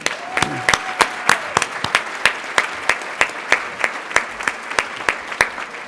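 Banquet audience at the New York State PTA annual convention applauds the new PTA officers, with steady, evenly spaced claps ringing out clearly across the hall and a brief high tone early on.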